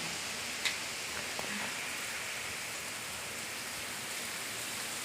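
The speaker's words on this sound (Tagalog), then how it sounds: "Hintayin natin yung mga, hintayin natin yung ulan na tumigil." Steady rain falls in a constant broadband hiss, with an occasional faint tick of drops nearby and no voices.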